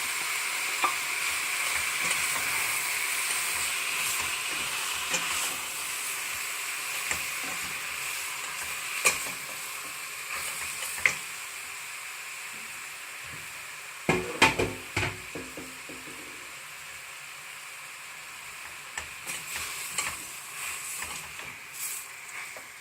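Tomatoes are sautéed in a pan of veal stew with coconut, giving a steady loud sizzle and frying hiss throughout, broken by occasional scrapes and knocks of a stirring utensil, with no voices.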